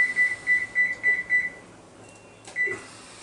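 A kitchen timer being set gives a series of about six short, even, high beeps in a quick rhythm, followed after a pause by one more beep.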